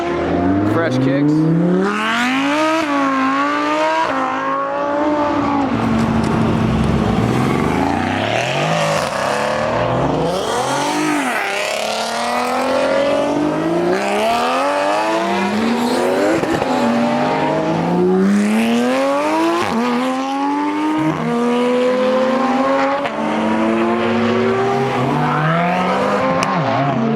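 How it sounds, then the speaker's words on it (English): Loud engines roar and rise in pitch as a twin-turbo Lamborghini Huracan and other cars make hard accelerating pulls at a car event, with overlapping revs and passes throughout and voices mixed in. "They're doing crazy pulls, so many freaking cars."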